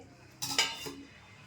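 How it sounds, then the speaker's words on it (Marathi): A metal lid set onto a cooking pot of vegetable kurma, giving a short clatter and a second clink in quick succession, fairly close, with no talking. "आता मी झाकण लावून ठेवते"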